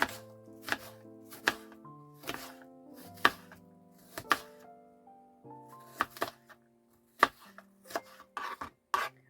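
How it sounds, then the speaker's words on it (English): Apples being chopped by hand with a knife on a board for apple strudel in a camper trailer kitchen: a steady series of sharp, close knife thunks in an irregular rhythm over soft background music. "I'm just gonna chop them by hand."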